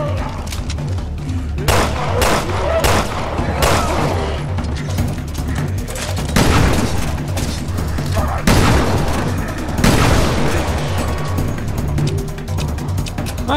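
Gunfire in the video game Resident Evil Revelations 2, loud repeated booming shots and bursts layered over dense game noise, sustained and close throughout.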